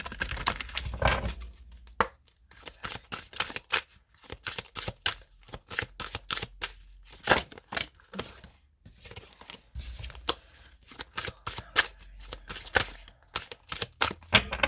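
Tarot cards shuffled by hand, a close run of quick, crisp riffling bursts separated by short pauses, with no talk.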